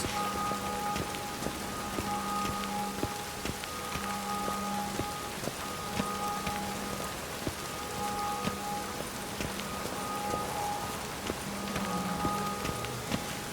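Steady rain in The Witcher 3: Wild Hunt patters across surfaces with scattered drops tapping, a constant soft wash with faint low tones underneath and no voices.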